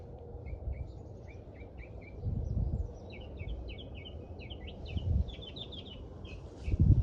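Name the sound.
birds chirping outdoors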